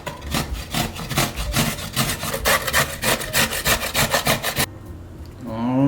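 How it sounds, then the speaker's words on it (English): Vegetables are rubbed by hand over a grater for Filipino shrimp fritters, a close, rapid rhythmic rasping of repeated strokes that stops abruptly near the end. "The next method we're gonna use is grating."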